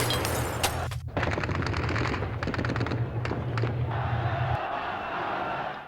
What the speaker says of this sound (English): soldiers fired directly into a massive crowd in Tehran's Jaleh Square